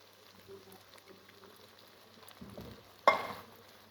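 Sugar syrup is poured into hot semolina halwa, setting off a sudden loud sizzling burst near the end after quiet low cooking sounds and a brief stir.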